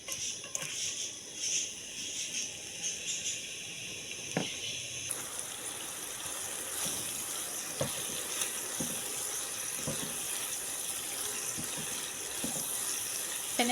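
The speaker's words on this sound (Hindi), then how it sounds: "अब इसमें अनियन ऐड कर देंगे" Onions hit hot oil in a pan for a chicken paratha, a sudden loud sizzle that settles into a steady, dense frying hiss with occasional pops.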